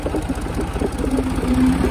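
Kubota and New Holland 3630 tractor engines at a tractor pulling contest give a steady, close, low diesel rumble with a faint knocking pulse that holds throughout.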